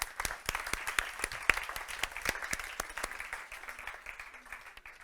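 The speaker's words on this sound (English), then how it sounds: "let's give them a round of applause" Audience applause for panel speakers at a conference session on water and sanitation goals, a steady wash of many hands clapping with sharp individual claps throughout, sustained for several seconds before gradually thinning.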